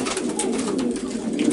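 Young racing pigeons scuffle and coo close by in a loft or race basket, a steady busy stream of fluttering and throaty bird calls with no talking.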